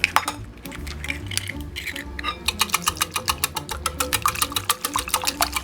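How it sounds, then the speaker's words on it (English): Buttermilk, melted butter and four eggs for Norwegian waffle batter are whisked in a bowl, giving rapid, rhythmic clicking of the whisk against the bowl that speeds up into steady strokes. "And then I'll mix it up before I add the dry ingredients."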